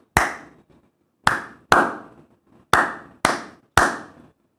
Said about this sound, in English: Now to all of you together, you have to do it.